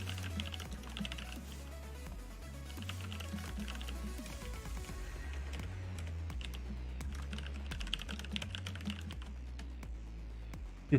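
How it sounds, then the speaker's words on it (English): Steady, continuous clacking of a computer keyboard being typed on throughout, moderately close, running under a low background hum with no talking. "Hear the clacky clacky of her keyboard."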